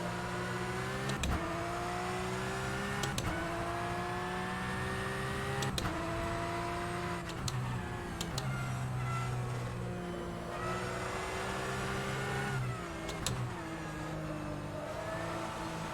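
A Porsche GT3 Cup flat-six engine in the rFactor 2 racing game drones steadily through gear changes, its pitch rising under load and dipping at each shift, a continuous synthetic-sounding engine note with no talk.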